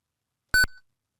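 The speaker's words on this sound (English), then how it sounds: "if we hit that asterisk, you should hear an audible beep" A single short electronic beep from a ZX Spectrum computer, clean and bright, standing alone in silence.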